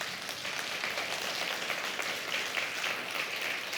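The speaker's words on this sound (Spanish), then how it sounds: "Denle un aplauso al Señor." A church congregation applauds during a Spanish-language sermon, a faint, steady wash of many hands clapping that holds evenly from start to finish with no speech over it.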